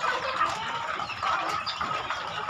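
Chickens on a farm on Dinagat Island, clucking softly and steadily in a short stretch with farmyard ambience.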